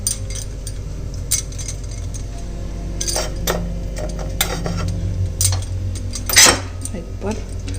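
Metal utensils clink and scrape against a pot while rice, water and coriander leaves are stirred together for pulao over a wood-fired chulha, a few sharp clinks standing out over a steady low rumble.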